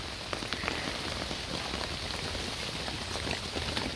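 Steady rain drums on a camping tarp outdoors: a dense, even patter of drops hitting the taut fabric, constant and close with no talk.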